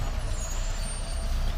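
A concrete truck backs in at a sidewalk-forming job, its diesel engine rumbling low and steady up close with an air-brake hiss over the top, no talk.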